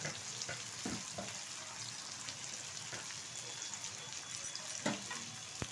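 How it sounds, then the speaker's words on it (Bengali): Onions frying in a pan for a wedding-style mutton kosha, a steady broadband sizzle with crackling pops and occasional stirring scrapes throughout, close and moderately loud with no talking. "ব্রাউন কালার আসা অবধি আমি পেঁয়াজটা ভেজে নেব।"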